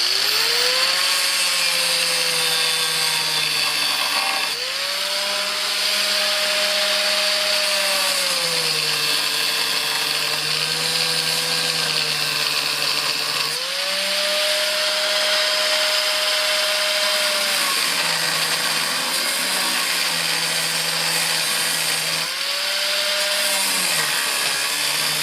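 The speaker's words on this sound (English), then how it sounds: "So what I'm going to do is grind a bit of that bottom bit away." An angle grinder cuts into the lower section of a Peugeot 107 slam panel in a long, loud, continuous whine whose pitch dips and rises as the load changes, with no talk over it.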